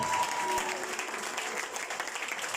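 A church congregation claps steadily at a moderate distance, a dense, even patter of applause lasting throughout with faint voices mixed in.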